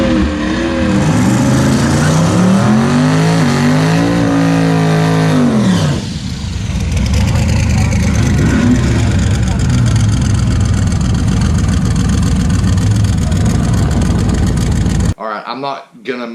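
Chaos Theory drag race car engine idling loudly right after its burnout, a steady low rumble with rough, shifting tones that drops off sharply near the end.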